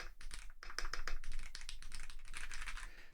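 Fast, close typing on a Keychron V1 Ultra 8K wireless keyboard, a dense run of crisp, slightly sharp key clicks with short bursts and brief pauses, no speech.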